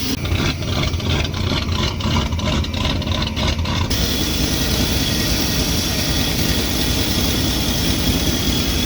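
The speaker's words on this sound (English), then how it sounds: "It's at least kind of idling on its own now" A 1988 Chevy V30 one-ton 4x4 dually with a V8 engine idles roughly, a steady low rumble with an uneven pulsing beat at first that smooths into a denser, continuous drone.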